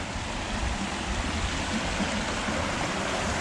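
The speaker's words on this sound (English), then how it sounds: "Nice little creek." A small, crystal-clear creek runs over rocks in a dry desert landscape near Lone Pine, making a steady, close rushing babble with no pauses and no voices.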